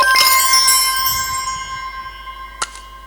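A shimmering bell-like chime serves as a video game reward sound for the Royal Orb, a bright struck tone with sparkling overtones decaying over a few seconds, followed by a short extra ping, with no talking.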